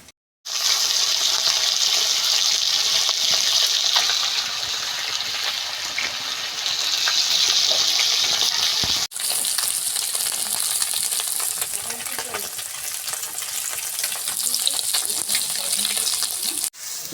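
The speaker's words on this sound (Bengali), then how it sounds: "ঝোল ফুটে গেছে। এবার দিয়ে দেওয়া হচ্ছে মাছ" Fish curry gravy bubbles at a rolling boil in a pan in a village kitchen, a continuous dense hiss and burble with a brief break partway through.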